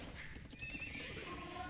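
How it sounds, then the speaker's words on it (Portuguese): A horse in the Age of Empires 2 video game neighs in a clear whinny over faint hoofbeats and a dense, quiet game backdrop. "esse cavalo tá aí parado"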